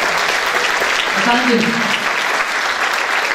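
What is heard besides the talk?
applause at a memorial concert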